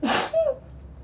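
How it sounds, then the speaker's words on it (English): A woman lets out a single sharp, high-pitched girly sneeze, close and loud, followed by a brief breathy tail. "Oh, to sneeze. I'll try and make them a little high-pitched girly."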